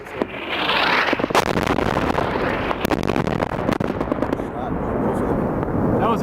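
Bombs exploding during a nighttime combat air strike, heard as heavy booming blasts and crackling bursts over rumbling noise, with people talking excitedly throughout.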